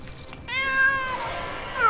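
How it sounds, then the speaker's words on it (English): A cat meows in the video game Danse Macabre: Florentine Elegy, one drawn-out, rising and falling meow followed by a second softer call, close and clear with no talk. "Here's a cat."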